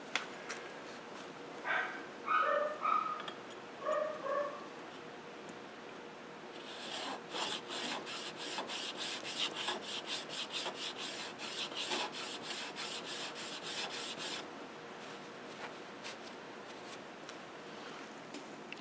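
A Stanley No. 5 plane iron is rubbed back and forth on a Trend diamond plate, giving a steady, close rasping scrape after a few brief clinks at the start.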